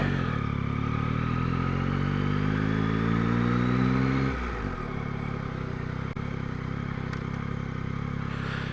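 A Yamaha MT-09 motorcycle engine drones steadily from the rider's own helmet camera, its pitch rising through the gears and then dropping to a lower steady hum, loud and constant with wind noise.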